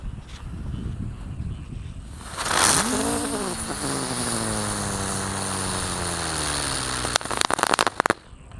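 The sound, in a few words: green lotus spinning firecracker (mercon teratai) being lit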